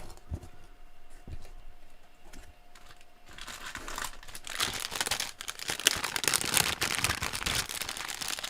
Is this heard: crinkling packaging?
yes